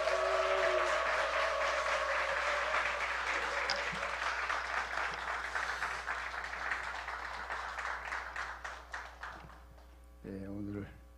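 A church congregation at a revival meeting breaks into loud, sustained applause and cheering to welcome the speaker. The dense clapping slowly thins to scattered claps before a voice and music come in near the end.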